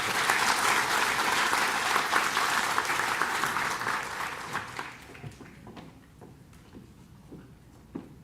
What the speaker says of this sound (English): Let's have a big round of applause for everybody on stage